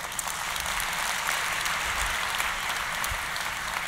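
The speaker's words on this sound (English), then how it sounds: "Please have a big round of applause for Nils from British Airways" Applause from a tech summit audience as a British Airways speaker takes the stage, a dense, steady wash of clapping that runs evenly throughout without letting up.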